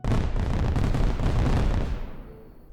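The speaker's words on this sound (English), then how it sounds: "Get out your Guy Fawks masks and prepare to set off some fireworks" A fireworks sound effect gives a loud, continuous crackling roar of bursts and rumbling booms that holds steady, then fades away into a quieter tail.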